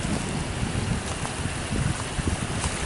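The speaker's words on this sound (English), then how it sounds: "It's still a little breezy." Steady broadband wind noise outdoors at night near a runoff creek, a continuous breezy rush buffeting the microphone with no talking.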